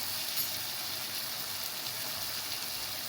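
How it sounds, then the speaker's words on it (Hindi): Chicken and vegetables frying over a high flame, giving a steady, close, loud sizzle with fine crackle that holds evenly throughout, with no talking. "1 मिनट हो चुका है हमें फ्राई करते हुए"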